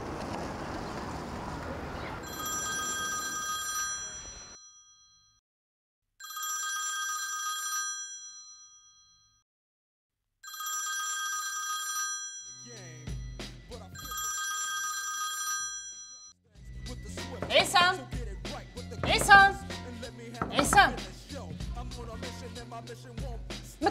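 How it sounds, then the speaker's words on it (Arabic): A telephone bell rings in four long bursts separated by short silences, clear and fairly loud, followed by people talking loudly. "هذا راه تليفون"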